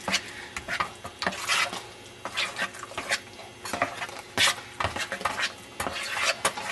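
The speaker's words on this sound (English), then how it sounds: "let me mix this. Get that egg broken up." Egg being stirred into a cheese filling for lasagne, a utensil scraping and clinking against a bowl in quick, irregular strokes, close and fairly quiet with no talking.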